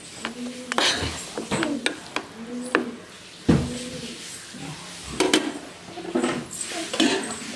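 Fried chicken noodles with masala being stirred in a pan at home, spoon scraping in repeated close strokes over a soft sizzle, with occasional light clatter of the pan.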